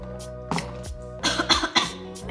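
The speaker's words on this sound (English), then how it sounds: "And cough a little bit." A person coughs a few times after inhaling Afrezza insulin powder, short close throaty coughs bunched together, quiet and alone.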